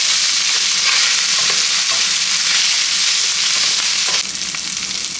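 Garlic butter fried rice sizzles loudly and steadily in a hot pan, a constant close crackle with occasional stirring scrapes, the hiss easing slightly near the end.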